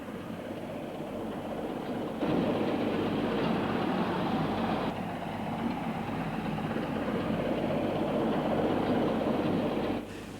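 A British Rail Class 27 diesel locomotive with a GEC power unit passes close by, its steady loud engine drone and wheel noise filling the whole stretch with slight swells as carriages roll past.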